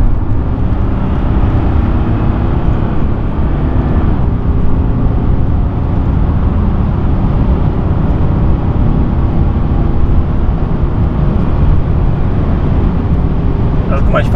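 Audi A8 driving fast in sport mode, heard from inside the cabin as a steady, loud roar of engine and road noise that holds constant throughout with no breaks.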